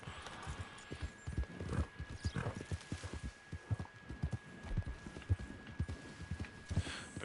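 Horse hooves in the video game Red Dead Online clip-clopping in a steady rhythmic gait, moderately close and continuous over a faint background hum, with no talking.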